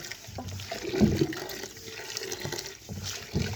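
Mustard greens for sarson ka saag being rinsed and squeezed by hand in water, with close sloshing and splashing bursts and a few quieter trickling pauses in between.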